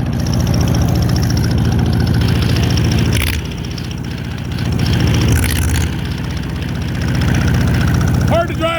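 An old Allis tractor engine chugs in a loud, steady rhythm with a brief dip midway, its low throb filling the whole stretch close up.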